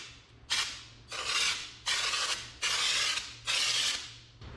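A paint spray gun sprays in a test run for bodywork on a 1961 wagon, five loud, close hissing bursts of about half a second to a second each, separated by short quiet gaps.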